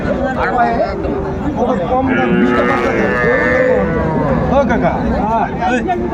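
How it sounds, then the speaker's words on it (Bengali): A young bull calf moos repeatedly at a busy rural cattle market, loud and close, its drawn-out calls rising over the chatter and bargaining of the crowd around it. "ষাঁড় বাচ্চা"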